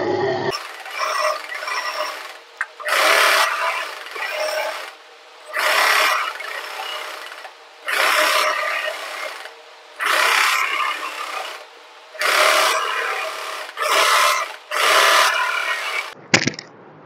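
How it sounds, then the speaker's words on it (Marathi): A sewing machine topstitching a co-ord set runs in a series of loud, steady bursts of about a second each, with short pauses between them, close and without talk. "आता मी इथून दाब शिलाई मारायला स्टार्ट करेन"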